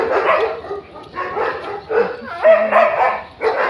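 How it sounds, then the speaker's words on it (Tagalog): Noisy dog barking repeatedly nearby outdoors, a run of loud barks with brief gaps, heard alone. "Maingay na aso."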